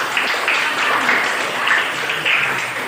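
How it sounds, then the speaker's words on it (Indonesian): A classroom of students claps after a correct answer in a geography lesson, a dense, steady burst of applause filling the room for a few seconds with faint voices mixed in. "Tepuk tangan untuk."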